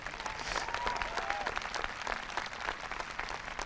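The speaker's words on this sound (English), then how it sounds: "they deserve a round of applause" A high school graduation crowd applauds the school staff, steady, fairly distant clapping from many people with a few faint whistles early on.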